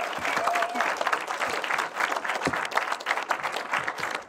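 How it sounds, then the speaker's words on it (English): An audience at a film festival awards evening applauds the nominees, a dense, loud burst of clapping held for over four seconds with some crowd noise mixed in. "just would like to give a massive round of applause to all the nominees this evening"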